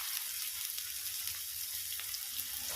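Sliced onions sizzle in an old heirloom pan, a steady low frying hiss with faint stirring and small crackles. No one speaks.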